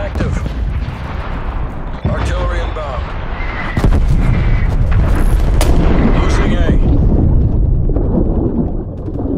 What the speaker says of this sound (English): Hostile artillery targeting active. Artillery inbound.